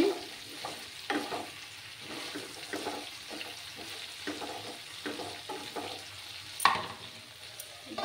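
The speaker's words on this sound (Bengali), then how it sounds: "আর একটু আমি নাড়াচাড়া করে দিচ্ছি।" Cauliflower cooking in a pan is stirred with a spoon, giving repeated soft scraping strokes over a steady low sizzle, close by and with no voices.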